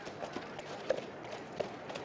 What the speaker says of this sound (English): Sam Berry, riding a little black horse with four white feet